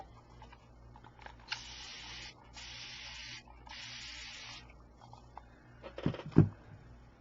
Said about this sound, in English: I'll get my handy dandy little spray bottle here.